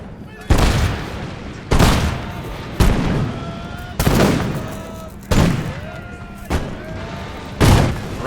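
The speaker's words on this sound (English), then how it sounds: "There we go, firing by rank." Musket volleys fired by rank in the Napoleonic strategy game Imperial Glory, six loud booming volleys spaced about a second apart, each a sharp crackling burst that rolls off into a short decaying rumble.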